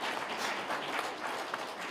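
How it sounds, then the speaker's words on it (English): Audience applause at a regional state address in Omaheke, a steady broadband wash of many hands clapping throughout, moderately loud and continuous with no talk over it. "I think Epukiro deserves a hand of applause"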